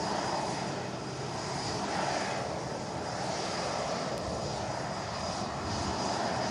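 A Lufthansa Airbus A321neo arriving from Munich roars steadily on touchdown at Manchester Airport, a loud, broad, unbroken jet rush heard alone without voices.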